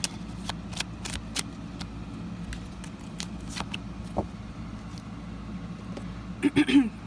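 Tarot cards are shuffled close at hand, giving a run of quick, crisp clicks and flicks over a low steady background, with a few louder taps at the end.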